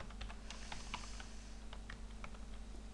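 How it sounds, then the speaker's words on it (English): Computer keyboard typing a console command, a quick run of crisp, close keystrokes over about three seconds with no voice. "For example, you can type in ipconfig"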